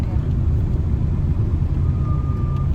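Large vehicles rumble past on a ghat road climbing toward the Ajanta caves. A steady, loud, low engine drone continues throughout while a voice talks over it.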